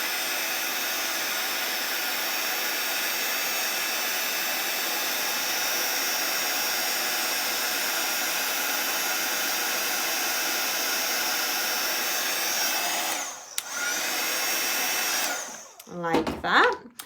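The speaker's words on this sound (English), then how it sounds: "And then we'll heat this up." A heat tool blows steadily to melt embossing powder on a winter-themed handmade card, a loud continuous whirring hiss that runs alone for most of the stretch before sputtering and cutting off near the end.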